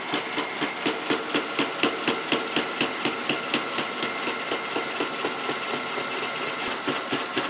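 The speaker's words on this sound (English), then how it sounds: "And we'll engage our down feed. And we'll just let that bore all the way through." A boring machine on power down feed cuts through a cane mill bearing, giving a fast, even rhythmic knocking, about three beats per second, over a steady mechanical hum in a workshop.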